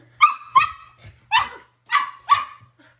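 A puppy barks sharply five times in an uneven rhythm, close and loud, with brief silences between the yips.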